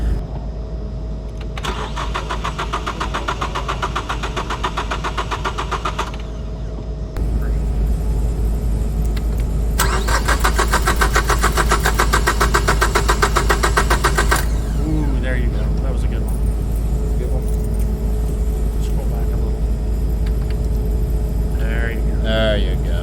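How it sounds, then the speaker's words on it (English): A car engine cranks over on its starter in two long bursts, a loud, steady, buzzing drone with a rapid pulsing beat, followed by a quieter stretch with faint clatter. "we went ahead and cranked the engine over"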